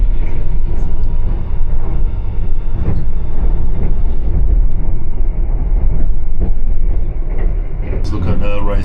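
A passenger train in Indonesia rumbles along the rails with a continuous, loud rolling clatter and occasional knocks, while a voice talks over it.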